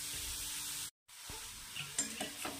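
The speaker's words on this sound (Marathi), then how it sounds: "हलवत राहायचं आहे हलव्याला आपल्या" Grated carrot halwa cooking in a pan is stirred, a soft sizzle cut by a brief silence and then several light scraping strokes, faint and close.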